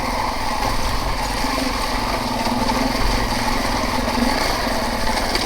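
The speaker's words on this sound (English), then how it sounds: "I would go so far as to say that that is a rattly exhaust." Rattly exhaust of a 350 Discovery running along a gravel track, a loud continuous buzzing engine drone with a steady rough rattle, close and unbroken.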